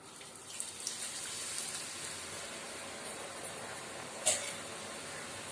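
Potato mixture batter dropped bit by bit into hot oil and deep frying, a steady soft crackling hiss that runs throughout at a low level, with one brief sharper spatter near the end.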